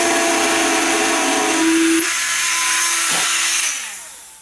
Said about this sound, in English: drilling a hole so that I can see the green coming through